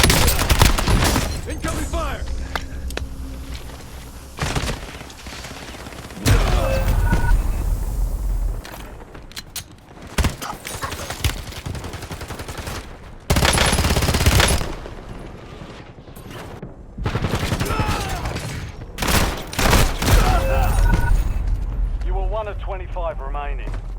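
Gunfire bursts in Call of Duty Warzone, loud repeated volleys and sharp shots in irregular clusters mixed with game effects and radio-style voice callouts throughout.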